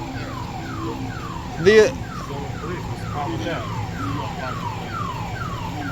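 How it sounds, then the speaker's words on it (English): A building alarm wails outdoors, a steady repeating electronic sweep cycling about once every half second, fairly loud at middle distance, with a brief louder chirp and a single spoken word near the start. "We saw the alarm going off over there in the building"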